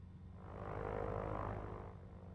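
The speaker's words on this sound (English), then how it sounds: "Like, this is the sound of the plane," A TBM 900 turboprop engine in a flight simulator game hums faintly and steadily, a low drone that swells slightly in the middle before easing off.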